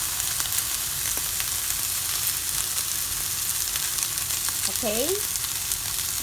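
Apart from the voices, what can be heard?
oil poured into pan with pepper, sizzling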